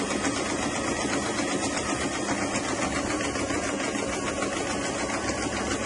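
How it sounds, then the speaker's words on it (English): A sewing machine stitches a summer dress with a continuous, even, rapid whir held close and steady throughout, with no talking. "And I'm going to sew it again."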